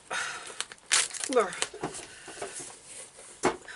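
Packing tape and cardboard on a taped mystery box are crinkled and torn in quick bursts of rustling and ripping, close up, interleaved with a person talking.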